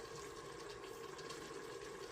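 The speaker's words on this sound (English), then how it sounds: "Then I'm going to get that water." Water pouring into a pot of dried red beans being prepared for red beans and rice, a soft, steady stream of liquid heard close and quiet, with no voices.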